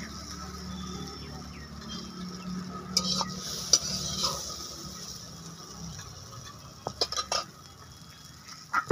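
Mixed vegetable bhaji is stirred in a pan over quiet frying sizzle, with scattered sharp metal spoon scrapes and clinks against the pan, close and soft, no talking.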